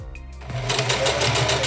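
A sewing machine runs fast and steady while stitching a wig closure down along its lines, a close, even mechanical whir that starts after a brief pause and carries on alone.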